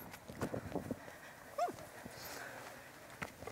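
A performer in a stage musical imitates a puppy, with short yips and whimpering cries in a few bursts against a quiet stage background.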